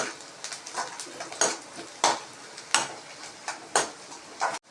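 Eggs being stirred in a pan while cooking Maggi noodles, with a series of sharp metallic spoon scrapes and clinks against the pan in an uneven rhythm, close and distinct, over a faint background.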